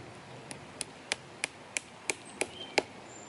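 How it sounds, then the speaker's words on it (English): A small axe chopping into a birch tree to fit a tap: eight sharp, evenly spaced knocks about a third of a second apart, close and clear over a quiet outdoor background. "Seeing I carried my little axe, I will use it."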